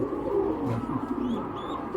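A Tota-breed pigeon coos in low, rolling, repeated notes close by, with a few faint higher chirps from other birds in the background.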